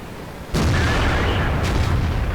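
Heavy artillery supporting fire lands in World of Tanks near a T110E5 tier 10 heavy tank: a sudden loud blast that rolls on as sustained rumbling, with a second impact following about a second later.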